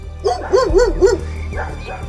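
Rescued dogs held in poor conditions bark and yip close by in a quick run of four sharp barks, followed after a pause by a couple of softer whining yelps.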